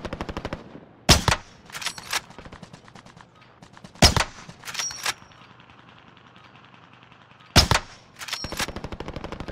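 Bursts of automatic gunfire in the video game Rebirth: three loud, tight volleys about three seconds apart, each followed by a few scattered single shots, over a low steady game hum.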